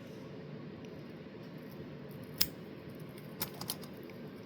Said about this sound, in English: This is definitely something for your rough scissors.